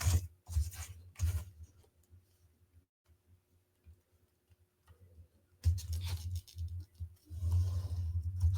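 A pencil drawing lines across a piece of scratch-built terrain building material, with short scratchy strokes at the start and a longer, louder stretch of scraping near the end, close and alone.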